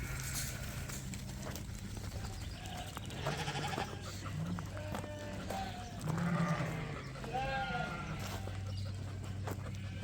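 Sheep bleat repeatedly in a pen during shearing day, rams and ram lambs among them, several calls overlapping at moderate distance over a steady low hum and some brief voices.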